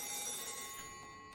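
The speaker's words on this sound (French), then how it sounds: "Ça, rien que ça, c'est flippant, c'est un téléphone qui sonne." An old-style telephone bell rings in the horror video game Saturnalia, a brief, fairly faint jangling ring that trails off.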